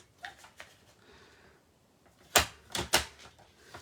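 Paper being cut for a Christmas gift box with a shaker lid, a few sharp close crisp slicing strokes near the end after a quiet stretch of soft handling.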